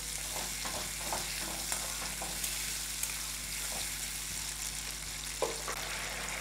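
Ginger paste and tomato puree cooking in hot oil, a dense continuous sizzle with frequent spattering pops and stirring scrapes, close and steady, no voices.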